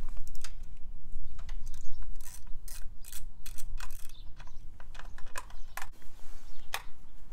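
A wrench unscrews the eight-millimetre bolts on the front sprocket cover of a Honda CRF250L, producing a close series of quick ratcheting clicks in irregular bursts over faint background noise, with no talking.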